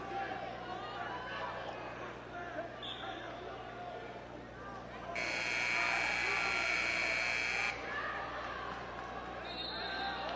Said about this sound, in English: Ignore the buzzer.